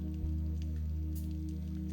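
Rain falls steadily on an outdoor morning church adoration gathering, a soft, continuous patter over a low electrical hum with no talking.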